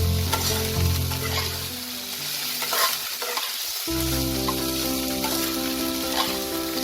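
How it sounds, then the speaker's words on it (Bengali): Mourala fish and fried bitter gourd are stirred in a pan over a low flame. There is a steady close sizzle with gentle scraping strokes, a brief dip partway through, and no talking. "ভালো করে লো ফ্লেমে এটাকে আমি 3-4 মিনিটের মতো আরো নাড়াচাড়া করে নেব।"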